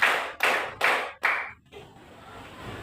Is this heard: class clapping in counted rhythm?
yes